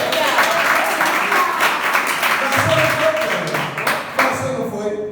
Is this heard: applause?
yes